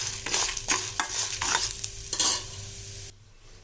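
Urad dal dry-roasting in a pan for chutney, stirred in several scraping bursts with a soft sizzle underneath, close and fairly loud, before dropping abruptly to near silence at the end.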